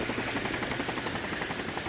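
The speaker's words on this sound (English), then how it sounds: "The helicopter's rotors stir up the air and blow away the raindrops like a storm." A large helicopter's rotors beat in a steady, dense rhythmic thrum during a heavy rainstorm in the Higurashi video game, loud and continuous with no voices.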